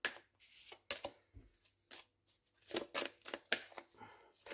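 Tarot cards being shuffled and laid down on a table, making quiet, intermittent papery slaps and swishes with short pauses between handling sounds.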